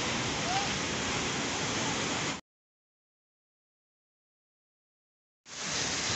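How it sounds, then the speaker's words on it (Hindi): A waterfall in Kumrat Valley rushes with a constant broadband hiss of falling water, heard close and steady, broken by a gap of silence before the roar resumes. "ये मैं अगर आपको आबशार दिखाऊं तो बड़े खूबसूरत अंदाज से पानी बह रहा है"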